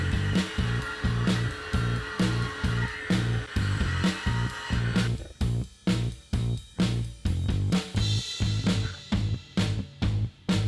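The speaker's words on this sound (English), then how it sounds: "Then I ripped it on the table saw to square off each side." Table saw ripping a block of teak wood to square its sides; a loud motor whine with rhythmic thumping pulses of the blade cutting, close by, with the pitch shifting partway through and no talking.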